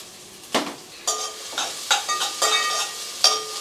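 Onions and spices such as bay leaf, cardamom and cinnamon frying in a pan for veg biryani, with bursts of sizzling and a few scraping stirs close by, no talk.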